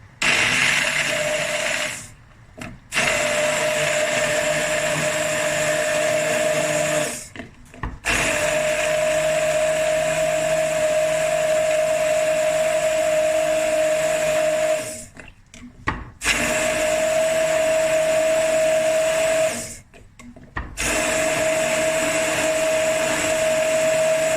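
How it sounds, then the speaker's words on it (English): A stick blender whirs loudly and steadily, stopping briefly four times before starting up again with a high motor whine. "I'm just going to take my stick blender and go."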